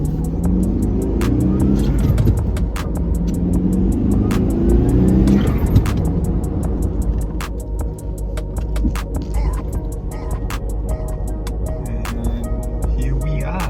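An Eagle Talon TSI drives along with a steady engine drone and road rumble, heard close from inside the car for the whole stretch, with repeated sharp ticks over it.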